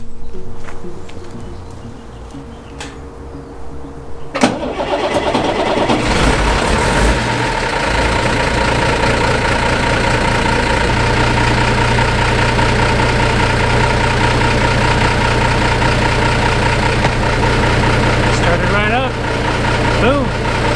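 A Unimog U1300L diesel engine cranks briefly and catches, then settles into a loud, steady, slightly knocking idle that runs on to the end, with a quiet lead-in before the start.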